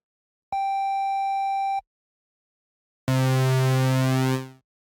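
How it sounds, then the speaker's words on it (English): A Commodore 64 SID chip in SID Factory 2 plays a ring-modulated triangle and pulse instrument: first a steady pure tone for about a second, then, after a pause, a harsh, buzzy metallic tone that cuts off abruptly. "First sequence is the ring mode enabled triangle on the second track."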